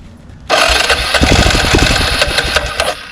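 An abandoned Arctic Cat 375 4x4 ATV with its carburetor removed fires up abruptly and runs loud and rough for about two and a half seconds, then cuts out. No voices are heard.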